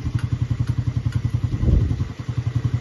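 A used Keeway 125 motorcycle idles steadily in a garage, a close, loud, rapid and even low putter with a brief swell in the middle.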